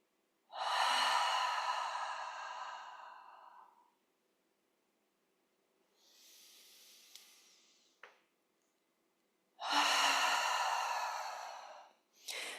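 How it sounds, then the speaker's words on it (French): Deep breaths drawn in through the nose and released out through the mouth, with two long, loud airy exhales separated by a softer inhale, heard close and alone. "Vous pouvez commencer par prendre 3 respirations profondes en inspirant par le nez et en"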